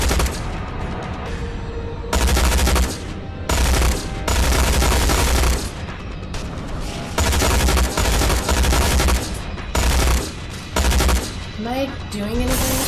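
A turret fires in the Tales from the Borderlands video game in repeated loud bursts of rapid shots separated by brief pauses, with game voices and music between the volleys.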